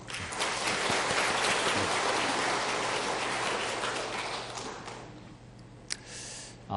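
A church congregation claps together in sustained, dense applause during a Korean worship service, gradually thinning out and fading toward the end.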